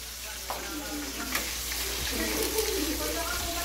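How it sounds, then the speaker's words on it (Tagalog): Chicken frying for a creamy carbonara, sizzling steadily in a pan, with sharp spattering pops scattered through the continuous hiss. "Medyo tumatalsik na yung ating chicken."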